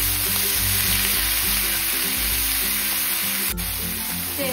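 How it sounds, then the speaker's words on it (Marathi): Masala gravy sautés in hot oil with a loud, constant sizzle close by and faint background music underneath, without any speech. "तेलावरती ग्रेव्ही छान अशी परतून घ्यायची आहे"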